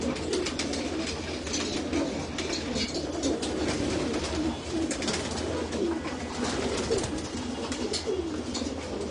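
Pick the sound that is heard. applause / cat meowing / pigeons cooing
pigeons cooing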